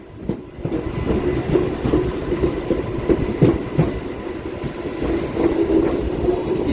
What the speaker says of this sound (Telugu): సౌండ్ భలే వస్తుంది, పట్టాల సౌండ్.